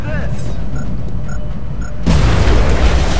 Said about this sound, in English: I wonder if I can get this grenade where it hits the Berserker and the Muton